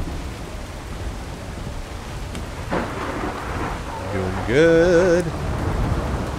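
Steady rain hisses with a rumble of thunder in the Ark Survival Evolved video game, while a player speaks briefly and a short tonal in-game sound rises over the downpour.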